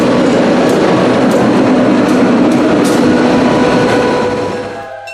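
Cincinnati Scenic Railway train rolling past on opening day at ORM in Ohio, a loud steady rumble of wheels and cars with faint clatter, fading slightly at the end.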